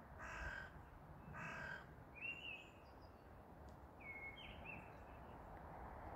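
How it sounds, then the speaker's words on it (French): Blackbirds start to sing outdoors. The louder sounds are two harsh, crow-like calls near the start, followed by a couple of faint, high, brief whistles over steady background noise. "par le chant des merles qui commencent"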